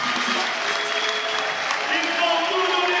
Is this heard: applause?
yes